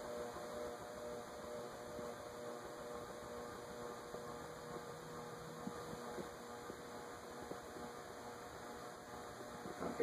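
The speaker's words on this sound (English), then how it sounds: "some people actually like a fan that hums like that" A Moss Caribbean Breeze model 748 ceiling fan, made by GEC, drones with a low, steady electrical hum, continuous and faint, with a faint airy whir underneath and no other sounds.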